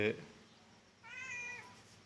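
A cat meowing just outside a house, trying to get in past a mosquito net: a short cry, a pause, then a longer drawn-out meow, faint and fairly close.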